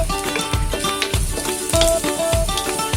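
Ginger hits a pan of sautéing onions and sizzles in a steady, crackling fry, with rhythmic pulses and some tonal background sound running underneath.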